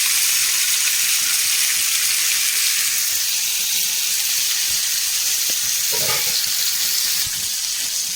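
Fish pieces fry in a pan for a home-cooked lunch, a steady, close hiss of sizzling oil running throughout, with a brief clatter or stir near the end.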